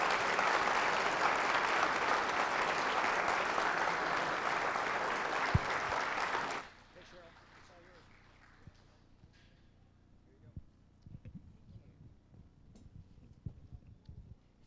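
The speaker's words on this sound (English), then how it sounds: "Let's give him another hand of applause." Audience applause after a talk at a 2017 MUFON symposium, loud sustained clapping from a crowd for about six seconds, then cutting off to quieter room sounds with scattered handling noises.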